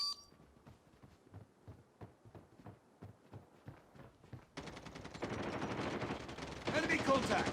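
Rapid bursts of mobile video game gunfire play on a Poco F4 phone. Spaced single shots come first, then dense sustained automatic fire with electronic beeps grows louder toward the end.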